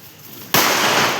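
A firecracker bomb goes off abruptly outdoors after a quiet lead-in, a sharp loud bang followed by a sustained crackling hiss that fills the rest of the moment.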